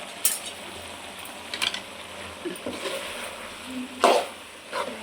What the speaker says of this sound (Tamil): நல்லா கிண்டிடும். அந்த மிளகாத்தூள், மல்லித்தூள் எல்லாம் சேர்ந்து வரணும்.